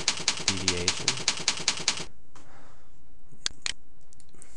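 Rapid run of about a dozen crisp keyboard keystrokes in a steady rhythm, loud and close, then a quiet pause broken by two sharper clicks near the end.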